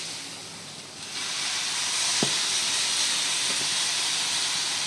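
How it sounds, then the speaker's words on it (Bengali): Soaked Gobindobhog rice tipped into a hot pan sets off a steady, close hiss of steam and sizzle that swells after the first second and holds evenly to the end, with no talking. "গোবিন্দভোগ চাল ভিজিয়ে রেখেছিলাম যে এবার আমি এর মধ্যে দিয়ে দিই"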